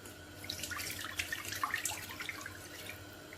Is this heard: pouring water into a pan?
yes